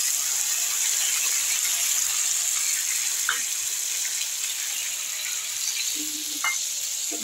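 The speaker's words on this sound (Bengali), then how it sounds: "আমি এখন জল দিয়ে দিচ্ছি" Steady, loud hissing sizzle from a pan of cooked-down fish curry masala as water goes in, with a couple of brief clinks and a soft splash near the end.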